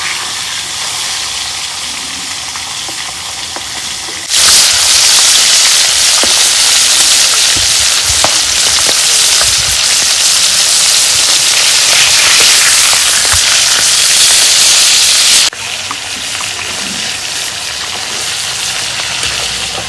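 Pangas fish fries in oil with a loud, dense, steady hiss that swells abruptly much stronger for about eleven seconds in the middle before settling back to a softer continuous sizzle.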